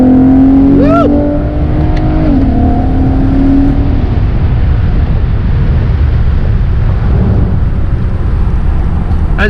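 A stock 6th-gen Chevrolet Camaro rated at 382 horsepower accelerates hard, its engine a loud, steady roar heard from inside the car with wind rush, the pitch rising briefly at the start before settling into a continuous drone.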